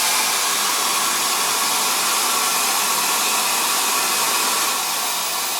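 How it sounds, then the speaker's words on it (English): A hair dryer fitted with a diffuser blows steadily and close at a constant whooshing level while drying hair, with no talk over it. "Blow dry this with the use of a diffuser."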